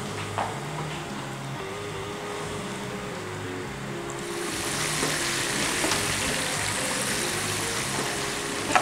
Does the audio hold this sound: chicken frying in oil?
yes